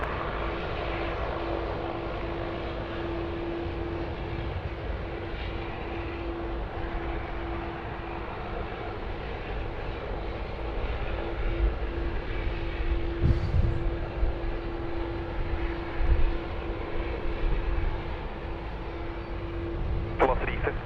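A jet airliner roars steadily at Sydney Airport, the broad engine rumble holding for about twenty seconds as an Airbus A330-900neo comes in on the left runway, with a voice talking over it throughout.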